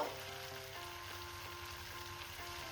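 Cut red tomato pieces sizzle steadily in hot oil in a frying pan for a spicy dry potato and capsicum curry, a continuous close crackling hiss with no talking.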